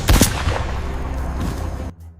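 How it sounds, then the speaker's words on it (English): Gunfire aimed at a Komodo dragon on an arid island in eastern Indonesia: a sharp blast at the start rings out and trails into a long echoing tail that cuts off abruptly after about two seconds. "The sound of gunfire echoes."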